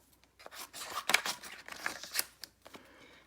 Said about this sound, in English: So next I have to fussy cut.